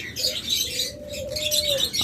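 Caged pet birds such as budgerigars, lovebirds and cockatiels call close by, a sustained cooing tone running under bright, scattered chirps throughout.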